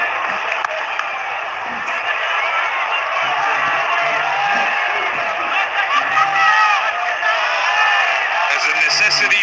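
A cricket stadium crowd at a Pakistan versus Sri Lanka tri-nation series final cheers and roars in a continuous dense wash, with a commentator's voice over it.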